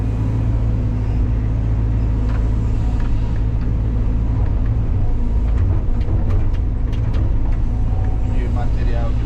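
A CAT hydraulic excavator's engine rumbles loud and close in a steady, heavy drone as the machine turns, with indistinct voices faintly underneath.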